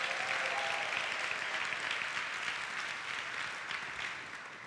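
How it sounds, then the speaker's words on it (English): Sustained applause from a church congregation, dense crowd clapping that holds steady and then gradually tapers off toward the end. "give him a big hand clap. They've been standing for a while."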